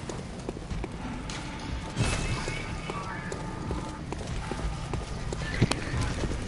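A horse in Bloodborne clops along with irregular hoof beats over a dark ambient game backdrop, a sharper thud near the end, while people talk intermittently in the background.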